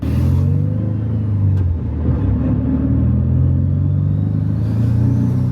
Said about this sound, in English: I'm literally like barely like touching the gas and it wants to go.